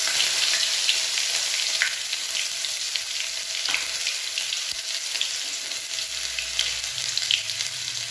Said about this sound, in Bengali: ফোড়নটা একটু ভালো করে নাড়িয়ে দেব।